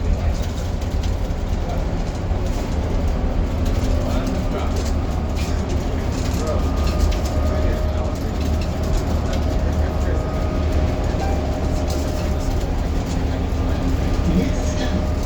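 Halifax Transit bus 1152 drives on Route 21, a constant loud low engine drone and road rumble heard from the front of the cabin, with rattles and occasional voices and announcements over it.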